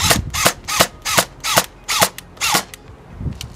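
A custom Zodiac APS airsoft gun fitted with a VSC motor fires about eight sharp, evenly spaced shots, close and loud, with no talking.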